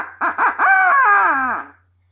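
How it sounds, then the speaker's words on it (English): An owl locator call used for turkey hunting, blown close and loud: three short hooting notes, then a long, wavering hoot that slides downward and fades. "Now, this is what an owl call sounds like."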